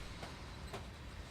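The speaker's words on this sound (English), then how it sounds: "It's an American train." An American train running on the Feather River Canyon route in Train Simulator 2019 gives a steady rumbling rail noise with faint wheel clatter, continuous and moderately loud throughout.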